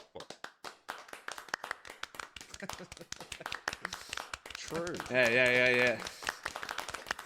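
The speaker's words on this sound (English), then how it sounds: "Yes, big round of applause." Dense, rapid clapping from a few hands fills a stand-up comedy show, with voices talking and a loud shout partway through.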